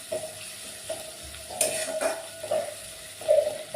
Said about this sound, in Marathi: गॅस थोडासा वाढवायचा आहे, गॅसची फ्लेम, व कांदा परतू द्यायचा आहे.